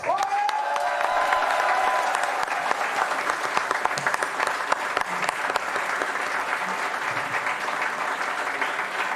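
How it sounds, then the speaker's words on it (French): A studio audience on a French talk show applauds the week's guest, Mr. Fox, producing a dense, sustained burst of clapping that runs steadily throughout at a close, fairly loud level. "je vous demande un tonnerre d'applaudissements pour Mr. Fox"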